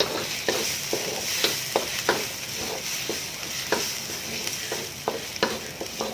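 Ingredients sauté in a pan, a continuous sizzle punctuated by irregular sharp scraping and tapping strokes of a utensil against the pan, close up with no voices.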